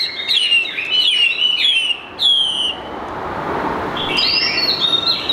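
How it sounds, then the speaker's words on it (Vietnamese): A red-whiskered bulbul sings nearby in a series of loud, bright chirped and whistled phrases, with short pauses between bursts and no talking. "anh em có thể thấy là con chim nó hot luôn anh em này"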